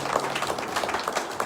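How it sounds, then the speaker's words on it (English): An audience at a Navajo Nation event claps in a short, dense burst of applause that fills the whole moment. "Give them a round of applause."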